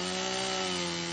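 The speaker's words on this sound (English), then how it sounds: "we took a chainsaw to the trees that were holding the Toyota in place" A chainsaw runs steadily, cutting through the trees that pin a stuck Toyota truck in place; the engine drone is loud, close and continuous with no talk over it.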